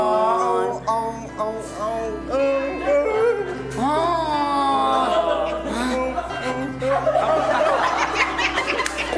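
Someone vocally imitates an affectionate puppy, producing a series of rising and falling whines and yelps with snickering laughter mixed in, close and loud, sometimes under talking.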